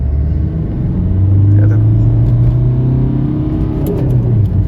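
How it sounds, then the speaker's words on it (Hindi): A Maruti Baleno diesel car engine hums and rumbles steadily at a low pitch while driving, with a gentle rise in revs midway; a faint voice is heard briefly. "देखो भाई कितनी स्मूथली अपनी गाड़ी मूव कर रही है।"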